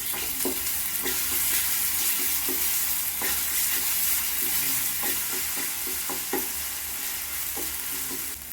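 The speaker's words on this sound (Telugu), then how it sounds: "బాగా ఫ్రై అయ్యింది." Masala paste of onion, ginger-garlic and whole garam masala spices frying in a pan, a continuous close sizzle broken by regular scraping stirs with a spatula, no voices.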